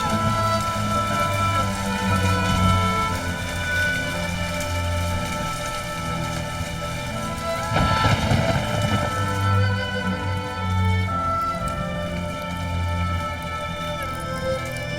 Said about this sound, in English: rain's too strong, it's dangerous.